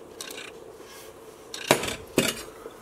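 Chili meat being stirred into beans in a big pot, with a few spoon-against-pot clanks and scrapes, two distinct louder knocks standing out over a faint background.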